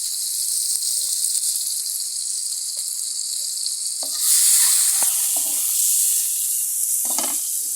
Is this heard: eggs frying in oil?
yes